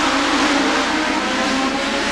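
A pack of Legends race cars roars together at the green flag on the Anderson Motor Speedway oval, a loud, dense, continuous engine drone with no break or voice.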